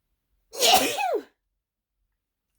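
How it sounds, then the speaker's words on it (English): A single sharp sneeze from a woman, close and loud, with a quick intake then a burst that trails off into silence. "I'm going to sneeze."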